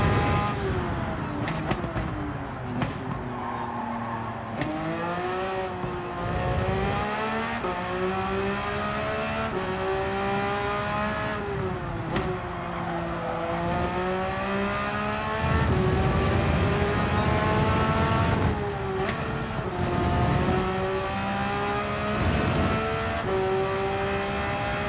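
A race car engine in Gran Turismo 7 revs hard and continuously, pitch rising and falling through repeated upshifts and downshifts, loud and close.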